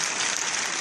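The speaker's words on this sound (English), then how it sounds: "Let's give him a round of applause!" Audience applause at a Comic-Con panel, a dense, steady wash of many hands clapping with no gaps, loud and close throughout the short burst.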